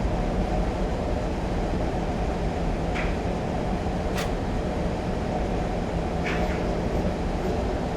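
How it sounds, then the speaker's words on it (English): Class 37 diesel locomotive with power idled and light loco brake applied on a descent in Train Simulator, a steady low rumbling drone of wheels and engine with a few faint brief squeals and clicks, no talk. "I've idled the power and I'm just going to apply a small amount of loco brake to control our speed along this descent."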